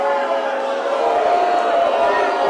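A boxing arena crowd groans and murmurs in displeasure after the referee halts the action, a dense, steady roar of many voices rising slightly in the second half.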